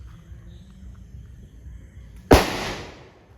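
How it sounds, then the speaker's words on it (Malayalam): Single sharp, loud bang of an atta padakkam firecracker bursting during Diwali, a sudden crack that decays into a brief rumble after quiet outdoor ambience. "നമ്മളിനി കുറച്ച് അട്ടപ്പടക്കം പൊട്ടിക്കാൻ പോവാണ്."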